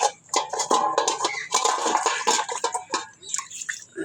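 Water is poured into a container for animals, heard close as a splashing, gurgling stream with brief uneven surges over a few seconds, with no talking.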